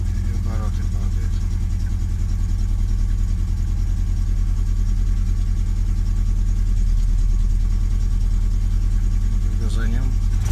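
Ford CVH engine idling roughly as if misfiring on a cylinder or two, a loud close uneven pulsing drone with a dip in revs, while someone talks over it.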